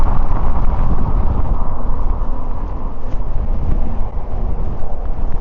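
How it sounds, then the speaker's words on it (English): A strong headwind roars into the microphone while a cyclist rides through hills, a loud, continuous low buffeting rumble filling the whole stretch with no talking. "It's quite a strong wind."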